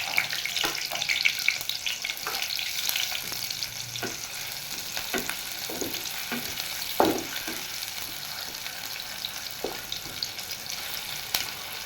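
Onions frying in oil in a pan for a Bengali dal chorchori, a steady soft sizzle with scattered clinks and stirring scrapes throughout, no voices.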